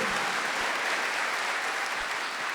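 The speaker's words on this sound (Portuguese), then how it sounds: "Mas aplauda com força, com fé." An audience at a religious talk about grieving claps together in a dense, steady burst of applause that stays loud throughout the short stretch.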